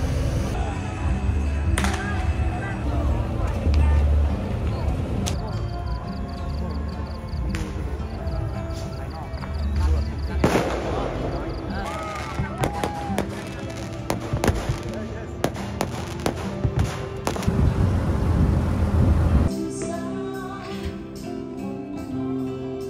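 At a festival in Thailand, fireworks and firecrackers pop and crackle in irregular bursts from a moderate distance, with scattered sharp bangs over a busy crowd background and voices.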